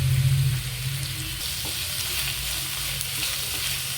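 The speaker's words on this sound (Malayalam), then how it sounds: "ഒരു മീഡിയം സൈസ് 2 സവോളയാട്ടോ. ഒന്ന് വഴറ്റിയെടുക്കുക." Onions, two medium ones, sautéing in a pan as the base for a Kerala-style chicken fry, giving a steady close sizzle with a brief stirring scrape near the start and no talking.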